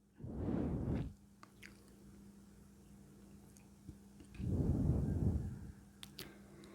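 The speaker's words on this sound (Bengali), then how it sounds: "এটা এখন শিলে গুঁড়ো করে নিচ্ছি আমি" Rice is ground to powder on a stone grinding slab in two separate bursts of gritty, rumbling rubbing, each lasting about a second, with a quiet hum and small clicks between them.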